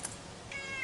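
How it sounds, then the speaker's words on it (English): A domestic cat meows faintly over a steady background hiss, a short single call lasting under a second. "This is our cat that comes around once in a while."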